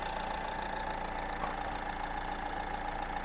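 A 2013 Renault Megane III 1.5 diesel idling, a steady even rattling hum with a fine rapid pulse, heard close and alone.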